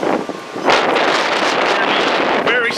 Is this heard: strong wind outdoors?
yes